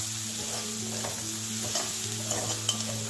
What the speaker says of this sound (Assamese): এইখিনি মই ভালকৈ লৰাই লৈছোঁ